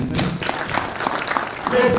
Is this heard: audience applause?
yes